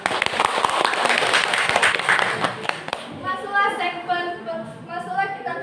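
Audience clapping at a student debate practice, a dense burst of applause up close that fades into a murmur of voices.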